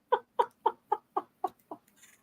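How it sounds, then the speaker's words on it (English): Chickens cluck in a quick even series of about seven short clucks, fairly close and clear against a quiet background, with a faint higher call trailing at the end. "Oh, you're hearing the chickens."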